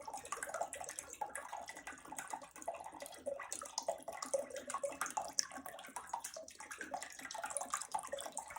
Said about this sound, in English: Then you're going to add your white wine vinegar or cider vinegar in this case